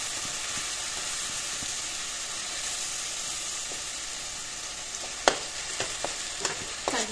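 Ingredients for an Assamese-style fish curry fry in a pan with a constant soft sizzle, then a few scraping clinks of a spoon stirring them near the end.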